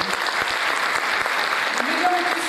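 Concert audience at a Turkish music show claps steadily in a dense, continuous burst of applause, with a voice faintly audible toward the end.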